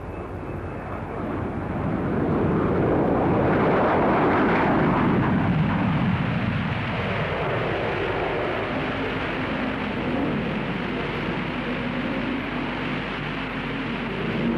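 An early British jet aircraft takes off with a loud, close engine roar that swells within the first seconds and then holds as a powerful, sustained rumble to the end.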